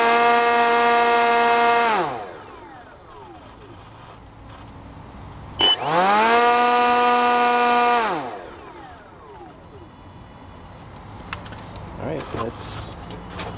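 An electric motor with braking switched off whines as it coasts down slowly, its tone falling steadily, then starts again with a sharp rise and spins down a second time, loud and close with no talk over it.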